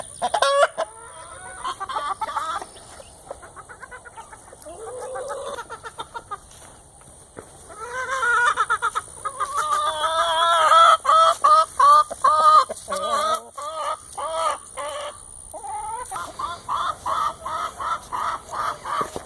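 A new flock of chickens on a farm, the hens clucking and squawking in busy overlapping bursts close by, swelling into louder, more agitated calls midway and continuing in rapid runs.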